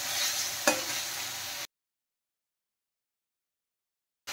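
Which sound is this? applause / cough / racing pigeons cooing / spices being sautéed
spices being sautéed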